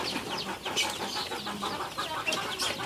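Free-range village chickens (ayam kampung) cluck and chatter continuously in a busy flock, with overlapping calls at moderate volume close by.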